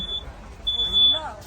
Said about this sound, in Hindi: अचानक से आप देखिए मेरे कोच में फायर अलार्म बज रहा है।